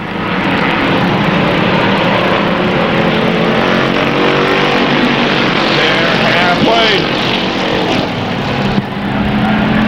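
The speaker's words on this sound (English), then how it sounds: "Here comes the 53 car, slamming on the brakes as they went into the turn." Race cars roar continuously around an oval speedway track, one car braking hard into a turn, with a steady loud engine drone throughout under an announcer's commentary.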